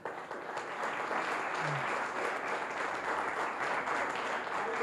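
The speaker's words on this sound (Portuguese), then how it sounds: "Escolhe para dar um aplauso ao Senhor." Congregation applauding during a church service, a steady wash of hand claps at moderate level that continues throughout with no clear break.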